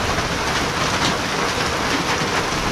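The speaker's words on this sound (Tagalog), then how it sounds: "Maganda kasi wala siyang halong hangin. Ulan lang." Heavy rain falls straight down without wind, making a dense, even roar of drops on surfaces that stays steady and loud from start to finish, with no talking.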